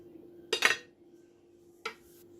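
A knife cuts into a soft, slightly warm banana bread cake, giving two short close scraping clinks on a plate, one longer, one brief, in an otherwise quiet room.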